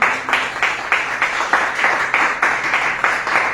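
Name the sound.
church congregation applauding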